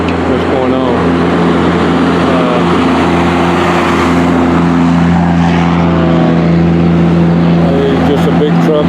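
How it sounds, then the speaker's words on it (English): A big diesel truck rumbles past on a road beside a hiking trail, a loud steady low drone filling the whole stretch, with voices talking over it. "Just a big truck, looks like a big diesel truck."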